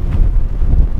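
Strong wind buffets the microphone at a high mountain pass around 5300 metres on a snowy peak in western Sichuan, a loud, close, gusting low roar for a brief moment, with no voices.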